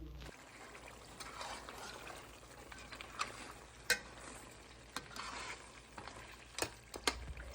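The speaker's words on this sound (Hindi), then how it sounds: "अभी 1/4 कप ऑयल डाल के गोश्त को भून लेंगे।" Meat (gosht) sizzles softly in about a quarter cup of oil as it is stirred, a steady low frying hiss broken by sharp scraping and clinking strokes of a spoon against the pot.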